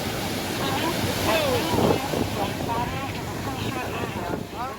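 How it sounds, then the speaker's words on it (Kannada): Surf rushes and crashes on Malpe Beach in Udupi, a broad swelling roar of water with wind noise and voices calling out over it. "ದೊಡ್ಡ ಅಲೆ ಬಂತು."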